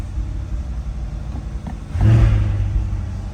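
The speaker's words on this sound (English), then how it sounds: "when I press that, you can hear the exhaust ports open and close" Exhaust of a 2020 Corvette 2LT coupe at idle, a low rumble that steps up to a louder, fuller tone partway through as the exhaust ports open.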